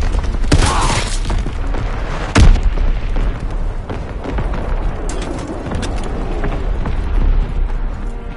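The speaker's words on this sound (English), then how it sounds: "Incoming enemy artillery! Get to cover! Enemy bomb incoming!" Enemy artillery bombardment in a WW2 video game, with heavy booms and blasts landing at intervals, one especially sharp and loud near impact, over a rumbling battlefield background.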